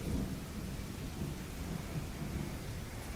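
Thunderstorm effect in a live Daggerheart tabletop game: deep rolling thunder rumbles continuously over a dense wash of steady rain, loud and close, with no voices.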